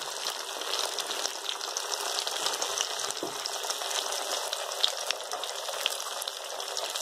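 Crisp potato bhaji bubble and sizzle in hot oil, a dense, even hiss of frying that runs steadily and close throughout, with a few faint pops.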